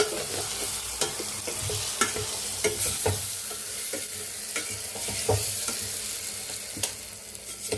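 Ripe red chilli chutney being tempered in hot oil crackles and sizzles steadily, with sharp pops and scraping stirs at an irregular rhythm, close and fairly loud.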